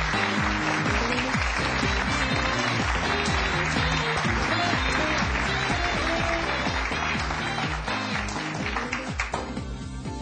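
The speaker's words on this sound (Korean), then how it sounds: "뜨거운 박수로 맞이해 주시기 바랍니다." A lecture hall audience at a university gives sustained, dense applause to welcome a CEO arriving to speak. The clapping stays full and steady for about ten seconds before tapering at the end, with music playing underneath.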